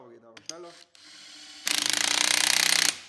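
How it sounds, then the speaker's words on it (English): Impact wrench compressing the clutch base plate on a Vespa scooter, a loud rapid rattling hammer burst of over a second following a few clunks and handling noises. "For that we can use the impact wrench, no problem, because it's just a lot faster."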